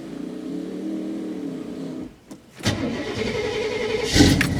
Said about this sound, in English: I know some of you like to hear the truck run.